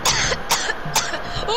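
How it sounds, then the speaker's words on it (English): A person coughs three times in quick succession, close and fairly loud, with short breaths and faint sounds between the coughs. "You're just gonna cough all up on the video, huh?"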